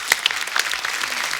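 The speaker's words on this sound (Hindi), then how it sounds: "जोरदार तालियां हो जाए।" A studio audience on a comedy show applauds at a Christmas celebration, a brief burst of dense clapping heard close and fairly loud.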